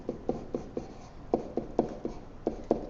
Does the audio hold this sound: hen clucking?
no